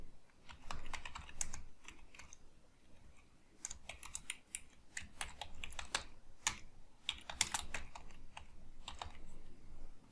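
Someone types JavaScript code on a computer keyboard: quiet, close, irregular key clicks in quick bursts with brief pauses, and no voices.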